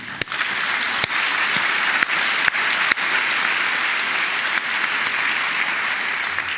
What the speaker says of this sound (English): An extra applause for you.